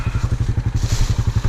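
A Honda Foreman 450 ATV engine chugs while riding through woods, giving a rapid, even low thumping beat at close range throughout, with no talk.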